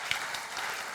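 A congregation claps during a Sunday church service, a dense burst of applause filling the room for about a second with no voices over it.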